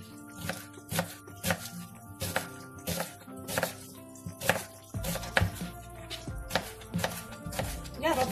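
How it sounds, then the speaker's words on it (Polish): Knife chopping onion on a cutting board while preparing fried herring in vinegar marinade, a series of crisp close rhythmic knocks in quick bursts separated by brief pauses, with no talk. "Cebulkę kroimy właśnie w taki sposób."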